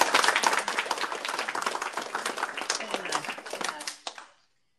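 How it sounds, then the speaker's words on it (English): A crowd applauds at the opening and plaque unveiling of a hospital unit, with dense, continuous clapping heard close and fairly loud before it tapers off and stops. "I think another round of applause."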